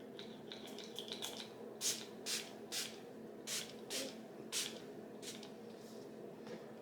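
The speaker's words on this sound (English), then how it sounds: "So I'm gonna go ahead and spray this on my face." Several short bursts of fine mist spray, hissing in quick succession, close by in a quiet room.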